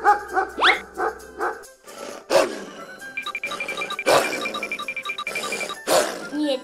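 A cartoon dog barks in a few short, sharp bursts within a busy animated scene, with other voices and effects around it.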